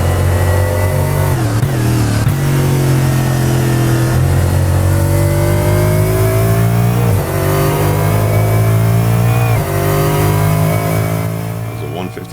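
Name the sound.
Lexus GT3 V8 engine roaring in a racing video game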